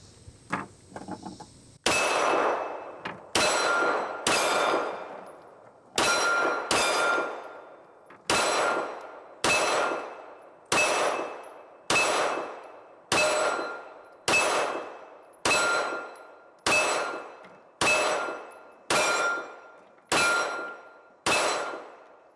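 A Canik TTI pistol fires at steel targets from about 12 yards, each shot a sharp bang followed by a ringing clang. Roughly fifteen evenly paced shots follow one another, loud and close, with no talk between them.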